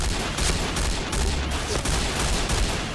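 Rapid, dense G36C rifle fire in the video game Point Blank, a continuous loud burst of automatic shots filling the whole moment with no pauses.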